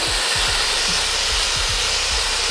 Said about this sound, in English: Add your garlic. Fry that.